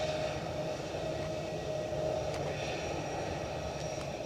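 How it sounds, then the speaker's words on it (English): A United airliner taxiing out at Edinburgh Airport, a steady, distant jet engine hum and whine, even and continuous, heard faintly across the airfield. "we've got United actually taxiing out"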